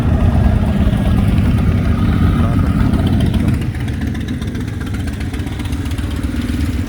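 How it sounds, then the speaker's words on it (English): A motorcycle engine drones nearby, loud and steady, then drops to a lower, quieter hum partway through amid street traffic noise. "Also some motorcycle going."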